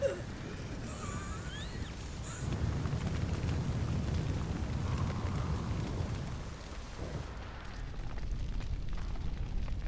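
A fire burning in The Witcher 3, a dense, continuous crackling roar at moderate level that swells and eases, with faint background game sounds and no speech.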